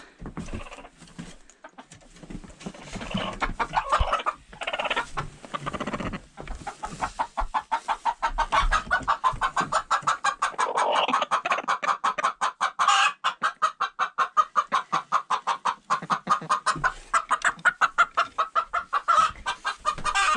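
Backyard chickens cluck and squawk in an enclosure, a busy chorus of rapid repeated calls close to the microphone that grows denser and more rhythmic over time, with no voices.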